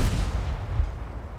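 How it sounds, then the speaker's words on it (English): A tank gun in the World of Tanks game fires with a single heavy, booming blast whose deep rumble and debris noise linger and slowly fade, with no talk over it. "New gun sounds as well."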